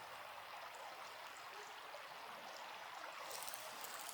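A river flows steadily through Coyote Gulch in Utah, a soft, even wash of rushing water with no voices, faint and continuous throughout.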